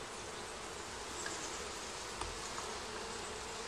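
Swarm of worker bees buzzing on honeycomb, a dense, steady hum that stays constant throughout, quiet and close, with no talking.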